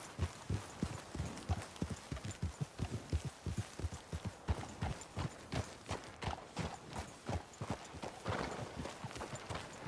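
Horse hooves clip-clop steadily in Red Dead Redemption 2, a rapid, even rhythm of close, distinct hoofbeats that thins and slows toward the end, with no talk over it.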